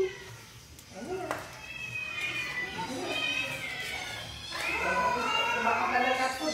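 Several house cats meow repeatedly and insistently close by, the cries rising and overlapping, while people talk and move around them.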